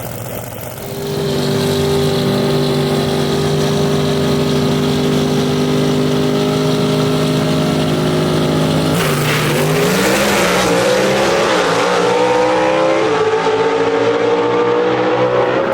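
Gasser drag race cars at Shadyside Dragway roar loudly and continuously with deep droning engines, then a sharp shift in pitch as they accelerate hard down the strip, no voices over the noise.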